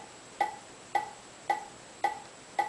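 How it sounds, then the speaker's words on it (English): A single bongo sample on a Korg ESX-1 repeats five times at an even, quick tempo like a metronome, short and dry with brief gaps between strikes. "I will use a sound like this bongo sound right here"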